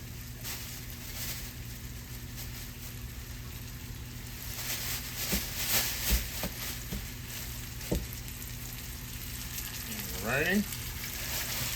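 Oxtail pieces searing in a hot frying pan, a steady close sizzle and crackle of meat in oil, with a few knocks and clinks of the pan and a voice speaking over it.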